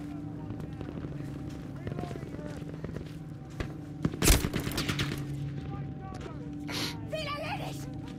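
Battlefield 5 gunfire crackles in scattered shots and rapid bursts, with one loud close blast near the middle, over a constant game background hum, while a player's voice is heard.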